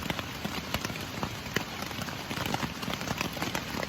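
Rain patters steadily on a OneTigris tent during a tropical storm at Jones Gap, a dense, even drumming of drops heard from inside, with no voices.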